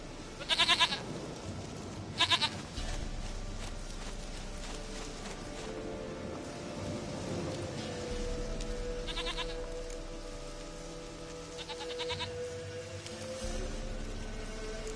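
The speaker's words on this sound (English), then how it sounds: "Goat of mine, dearest, sweetest goat." Goat bleating in The Witcher 3 video game: a few short, loud bleat bursts early on, then quieter repeated bleats over a steady game ambience with low wind-like rumble.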